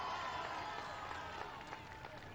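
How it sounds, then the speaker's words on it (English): Crowd noise from a large gathering in a Rome square greeting Pope Francis, a dense sustained wash of cheering voices and scattered clapping heard at a distance, steady throughout the short stretch. "Papa Francesco, as the crowd is hollering out there"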